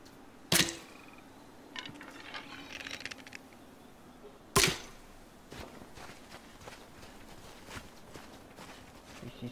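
Two sharp, loud twangs of an arrow being shot in Shadow of the Colossus, several seconds apart, with soft footsteps and faint game sounds between them.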